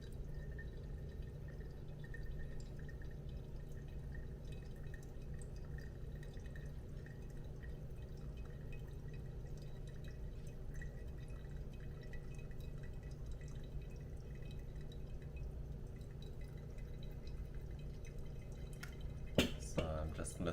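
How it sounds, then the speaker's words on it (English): Water trickles steadily from a kettle over ground Onibus Blend coffee in a small Hario V60 dripper, a quiet, even pouring hiss that runs for about twenty seconds without a break. "I'll divide it into 2 pours"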